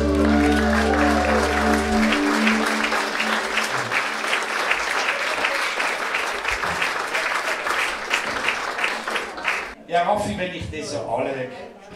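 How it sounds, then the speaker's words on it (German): Sustained audience applause at a German-language musical cabaret show, dense, loud clapping that continues for several seconds, then thins out as a voice starts speaking near the end. "Ich möchte sagen, das ist mal ein Applaus."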